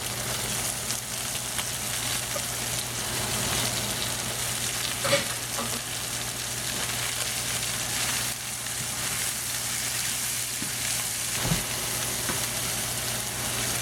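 Chicken, cashew nuts and vegetables stir-fry in a hot wok, a loud, steady sizzle with occasional scraping and clinking of the spatula as the ingredients are tossed, close up and without talking.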